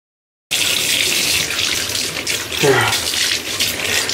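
Cold tap water runs after a short silence, a steady loud gush into a basin for hair washing, with slight changes in flow partway through.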